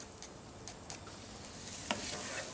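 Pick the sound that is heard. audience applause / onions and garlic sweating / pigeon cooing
onions and garlic sweating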